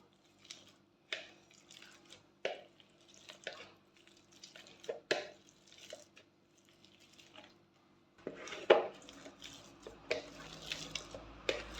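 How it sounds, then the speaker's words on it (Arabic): Two boiled potatoes mashed by hand in a bowl, giving repeated wet squishing presses in an uneven rhythm, close and fairly quiet, growing denser toward the end. "عندنا 2 كيسان راح نربزوها، يعني نهرسوها"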